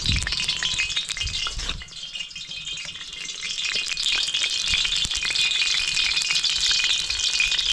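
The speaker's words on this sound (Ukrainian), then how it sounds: "закинули цибулиночку, наляли олії. Не знаю, 400 мл я вляв. І ще так файно діло обжаруємо." Onion frying in about 400 ml of oil in a cauldron over an open campfire for lamb pilaf makes a constant, loud crackling sizzle with rattly bursts, dipping briefly near the start before settling into a steady roar.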